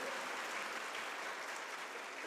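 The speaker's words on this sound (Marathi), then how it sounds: "जोरात टाळ्या वाजवा एकदा" An audience at a public gathering claps loudly and continuously, a thick, uniform roar of hands that carries through the whole stretch without pause or speech.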